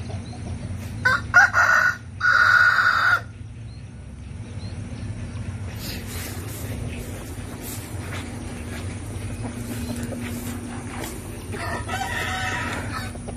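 A rooster kept in a cage crows loudly in a couple of bursts near the start, then clucks and rustles quietly against a steady background hum, with no one talking.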